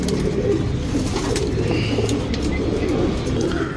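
Pigeons kept for sale coo close by in soft, repeated throaty calls that run continuously, with faint chirps mixed in and no talking.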